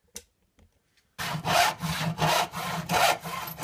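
A hand saw on a primitive human-powered lathe cuts wood along its kerf, a near, loud rasping in steady back-and-forth strokes after a few faint taps and a short pause.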